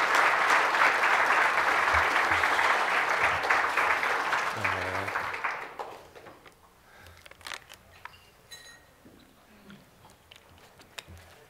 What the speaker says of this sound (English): Let's have another round of applause for Ken Hickman